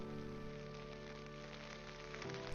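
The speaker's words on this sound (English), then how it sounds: "We fell asleep by 8 p.m. to the heavy pattering of rain." Heavy rain pattering on a stormy evening, a dense, steady wash of drops that stays fairly soft and even from start to finish.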